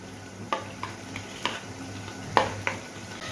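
Shan biryani masala being stirred into chicken in a pan, with a spoon scraping and tapping the pan every half second or so over a soft, steady sizzle close by.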